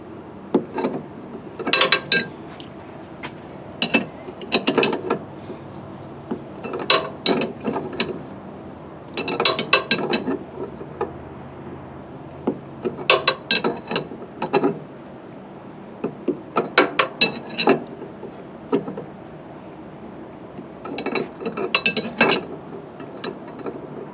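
Wheel bolts on a Mercedes-Benz R107 500SL turned by hand with a ratchet wrench, bursts of quick metallic clicking repeating in short runs with brief pauses between, close and fairly quiet.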